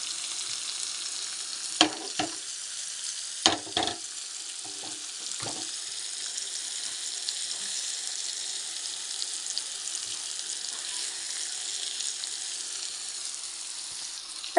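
Seasoned fish sizzles and fries in a pan, a steady bright crackle with a few sharper pops and stirring knocks near the start, close and alone.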